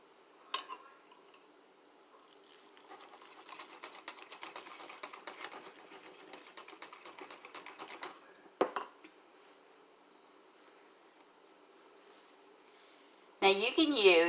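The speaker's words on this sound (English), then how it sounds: "Stir this up real good." A whisk stirs gluten-free banana muffin batter in a bowl, giving a few seconds of quick, faint clicking and scraping with a couple of sharper knocks, followed by quiet and a louder burst at the end.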